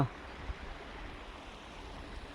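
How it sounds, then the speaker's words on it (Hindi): The Godavari river in Dhangadhi, Nepal flows with a steady, soft rushing wash, a faint continuous stream murmur heard from a distance with no other sounds. "और बहती हुई है गोदावरी नदी।"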